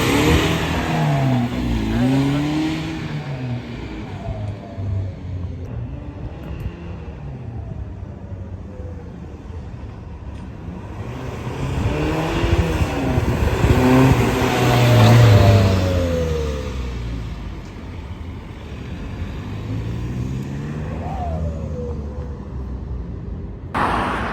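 BMW-engined Ford Transit van revving on a motorway roadside with the turbo not boosting; engine note rises and falls in two broad swells, fairly loud and steady with traffic-like rumble, no talk.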